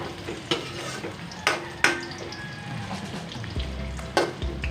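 Toasted pork stirred and fried in a pan for a pork and vegetable dish: a constant close sizzle broken by a few sharp metallic clanks of a utensil against the pan.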